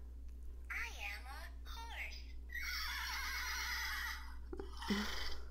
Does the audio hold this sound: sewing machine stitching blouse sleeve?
no